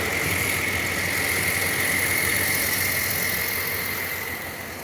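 A 2015 Chevy Silverado 2500 pickup's gas engine idles steadily nearby, an even hum with a faint high whine, easing slightly quieter at the end.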